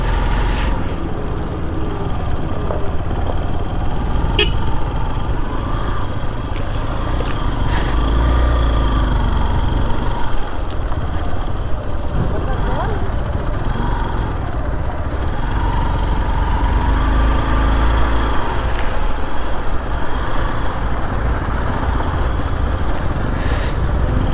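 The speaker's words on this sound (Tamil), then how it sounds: "தம்பி வீல் வண்டி வருது, கிட்ட போகாதீங்க." A wheeled vehicle on a mountain road, its engine a steady low rumble and drone that holds close and loud throughout, with no talk over it.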